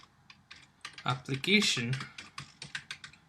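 Rapid keystrokes on a computer keyboard as a search is typed, a quick run of light, close clicks with a spoken word in the middle.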